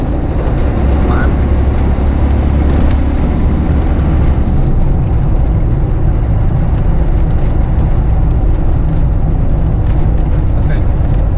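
A vehicle fitted with a Fourby4x4 twin port performance manifold accelerates slowly in fifth gear under full throttle, a steady loud low engine drone with road rumble running throughout, with talk over it.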